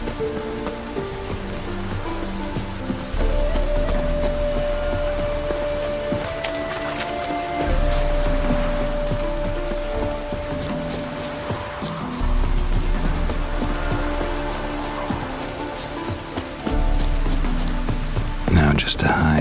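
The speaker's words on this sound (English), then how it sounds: "Rain doesn't bother you, it seems." Steady rain falling in The Witcher 3 Wild Hunt, a continuous soft hiss running under in-game music and dialogue voices for the whole stretch.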